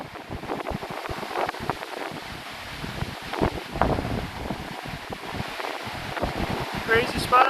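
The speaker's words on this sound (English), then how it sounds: "Oh my God, look at that wind." Strong wind roaring through trees, a loud continuous gusting rush with rustling and heavy buffeting against the microphone.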